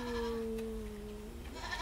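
A baby goat at a farm gender reveal gives one long, wavering bleat that fills most of the moment, sounding close and fairly loud with no talking.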